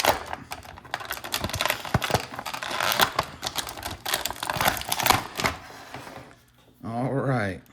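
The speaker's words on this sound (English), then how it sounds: "Take the figure out. A lot of crinkling coming up." Plastic packaging crinkles and crackles in quick irregular bursts as a G.I. Joe action figure is pulled free, close and fairly busy, followed by a short humming tone near the end.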